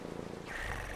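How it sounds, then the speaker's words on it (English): A cat purrs in the video game Brothers, a soft continuous rumble that rises and grows steadier halfway through, heard alone without talk. "May I hug your cat, sir?"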